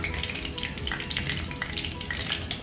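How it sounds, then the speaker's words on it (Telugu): Tempering for a gongura and red chilli pickle sizzles in hot oil, with dried red chillies among the spices, a dense close crackle and spatter running steadily throughout. "ఇది తాలింపు వేసేసుకుందాం ఈ నూనెలో"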